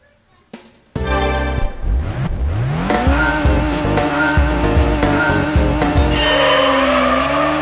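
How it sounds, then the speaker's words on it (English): A rear-wheel-drive Honda S2000 in Gran Turismo 3 starts up and accelerates hard, engine revving through rising pitch sweeps with repeated gear shifts and tire squeal, loud and continuous. "we're in a back wheel drive car, and which is an S2000"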